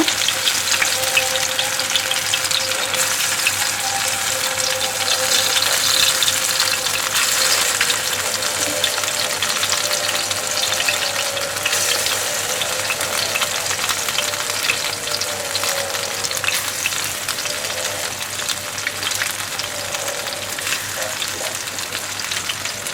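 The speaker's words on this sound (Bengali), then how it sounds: "ভাজি হয়ে গেছে, এবার আমরা এটা তুলে নেব।" Lentil and prawn fritters fry in hot oil, giving a steady, close sizzle with a dense crackling hiss that runs unbroken at an even level throughout, with no talking.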